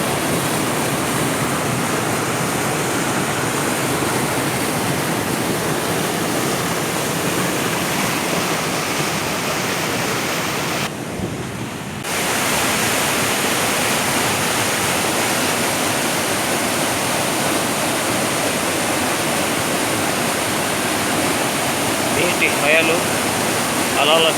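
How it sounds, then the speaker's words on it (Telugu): Water of the Kaigal waterfall in Chittoor district roars without a break, loud, with only one brief dip midway and no voices. "ప్రవహిస్తున్న నీళ్లు చూడ చక్కని అద్భుతం కైగల్ జలపాతం"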